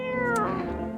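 A cat in the video game No, I'm Not a Human gives one clear, close meow with a falling pitch, loud and alone without speech.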